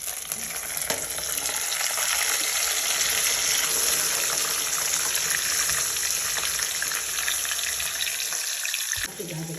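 Ground masala paste for masala chitranna hits hot oil, giving a strong, steady hiss of frying with occasional stirring scrapes, close up and continuous before a brief dip near the end.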